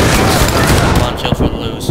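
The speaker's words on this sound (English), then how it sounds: "Oh no, they're shooting me." Dense, loud gunfire in the online shooter APB Reloaded, rapid overlapping shots and bursts crackling continuously with a voice talking over the barrage.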